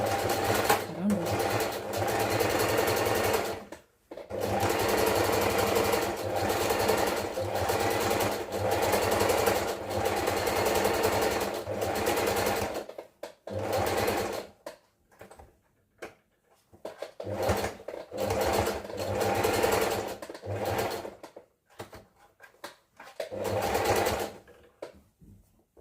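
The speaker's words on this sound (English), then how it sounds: "I'm going to go ahead and zigzag that up." A sewing machine zigzag stitches in long, steady runs broken by brief stops, then shorter start-stop bursts later on, close and loud, with a voice talking at times.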